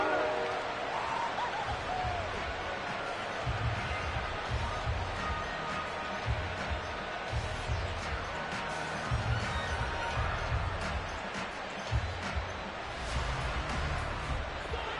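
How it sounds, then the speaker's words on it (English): A large crowd at a Buffalo Bills playoff football game roars and jeers in a steady, distant wash of noise, with a commentator talking over it. "This Buffalo crowd letting them have it."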